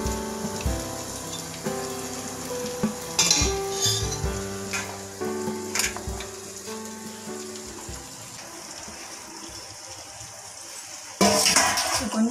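Egg noodles sizzle and fry in a pan while being stirred, with metallic scraping and clinks of a utensil against the pan and a steady hiss underneath.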